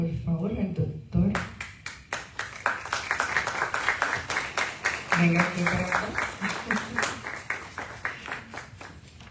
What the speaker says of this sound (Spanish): recibamos con un aplauso, por favor, al doctor